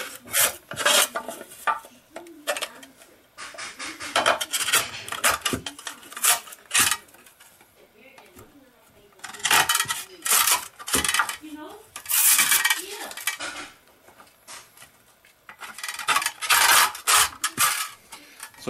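Spyderco Delica folding knife slicing through ribbed metal cans, giving a series of close, scraping and crinkling metallic cuts in irregular bursts with brief pauses between strokes.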